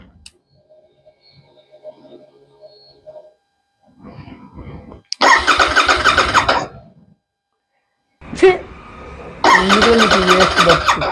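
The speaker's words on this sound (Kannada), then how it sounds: "ಬನ್ನಿ ಒಂದು ಕೋಲ್ಡ್ ಸ್ಟಾರ್ಟ್ ಮಾಡಿಬಿಡೋಣ." Royal Enfield GT 650 motorcycle engine attempting a cold start after running dry of petrol: two loud bursts of cranking and sputtering firing, each cutting off, with a sharp squeal before the second attempt, close and alone.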